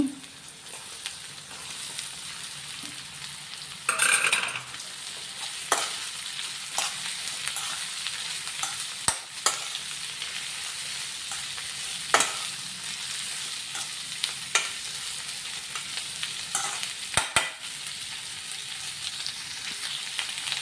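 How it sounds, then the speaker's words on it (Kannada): Ivy gourd sizzles and fries in a hot pan on a stove, with steady crackling broken by scraping stirs and occasional sharper clatters, close and continuous with no talking. "ಈಗ ಫುಲ್ಲಲ್ಲಿದೆ ಸ್ಟವ್ ಆಮೇಲೆ ಅಡುಗೆ ಮಾಡುವಾಗ ಮೀಡಿಯಮ್ ಫ್ಲೇಮಲ್ಲಿಡೋಣ ಈಗ ತೊಂಡೆಕಾಯಿ ಹಾಕ್ತಾಯಿದ್ದೀನಿ"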